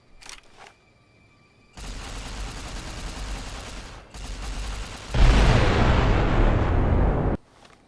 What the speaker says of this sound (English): I'm gonna be using the shotgun a whole lot.